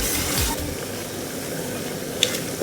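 Tomato paste fries in a pot for gizzard stew. A steady, moderate sizzle hisses throughout, with a faint stir early on and a single small utensil clink near the end.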